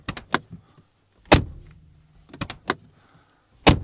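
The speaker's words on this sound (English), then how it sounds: "Closing the door." Door of a 2025 Mercedes G63 AMG shutting: a run of sharp clicks and latch taps with two heavier, solid thuds, close up and with no voices.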